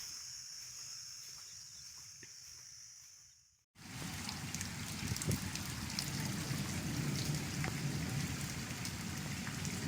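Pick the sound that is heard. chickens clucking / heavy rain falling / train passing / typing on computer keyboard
heavy rain falling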